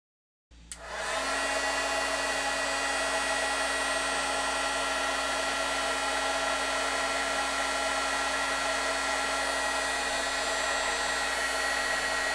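A heat embossing gun switches on and blows a loud, steady whine of hot air over paper beads, starting abruptly after a moment of silence and running continuously at close range.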